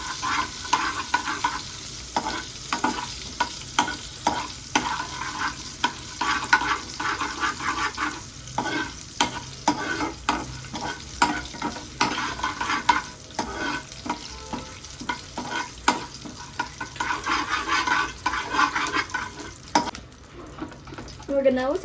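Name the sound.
chopped curry leaves being added to a frying pan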